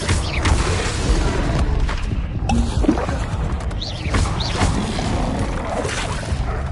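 Expelliarmus spell fired in Hogwarts Legacy, a sharp magical burst with a booming impact amid dense, continuous combat noise and crashes, loud throughout with other spell effects around it.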